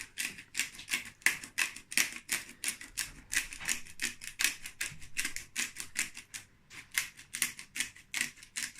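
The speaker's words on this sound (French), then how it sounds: "Là, je rajoute du poivre moulu." A pepper mill grinds pepper over potatoes marinated with thyme, salt and a little oil, making a quick, rhythmic series of dry crunching clicks, close and fairly quiet, repeating steadily throughout.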